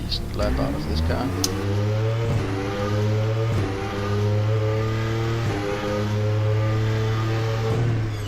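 An Audi R18 Le Mans racing car engine in a video game drones steadily at high revs, with several brief dips and surges as gears change, loud and continuous throughout.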